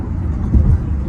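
A 2023 Hyundai IONIQ 5 electric car drives along, giving a low, steady road and cabin rumble with a faint swell partway through and no engine note.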